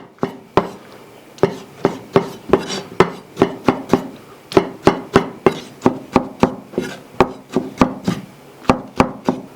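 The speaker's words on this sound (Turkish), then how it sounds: "Kabuğunu soyduğumuz domatesleri de doğrayacağız." A knife chops peeled vine tomatoes on a cutting board in a home kitchen, a close, steady run of about thirty sharp taps in a quick even rhythm with short pauses between bursts; no talking.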